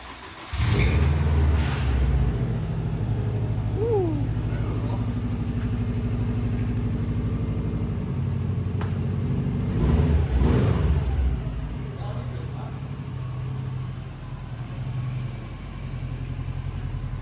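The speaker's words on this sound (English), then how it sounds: "We haven't really done much with Megan Racing downpipe, but it sounds great." A tuned car fitted with a Megan Racing downpipe exhaust idles with a deep, steady rumble nearby, blipping the throttle in a couple of brief revs, with faint talk.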